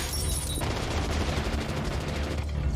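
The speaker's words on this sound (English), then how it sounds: "people shooting their 9mm like 80 feet away" Dense, continuous gunfire in a movie scene, loud and sustained, like a rapid fusillade of 9mm pistol shots with no pauses.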